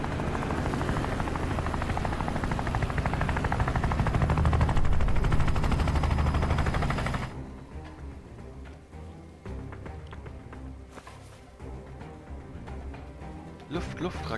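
Helicopter in the video game Phantom Doctrine, a loud rotor thrum mixed with gunfire and explosions that drops sharply to a quieter battle ambience with scattered shots partway through.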